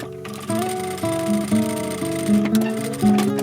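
A sewing machine stitches a pyjama waistband seam with a steady whirring motor hum, speeding up and slowing in short bursts, close and fairly loud.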